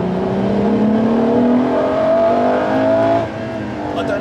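A Ferrari LaFerrari's 950bhp engine pulls hard through fourth gear, loud and close, with a steadily rising harmonic whine that drops off sharply near the end as the throttle lifts.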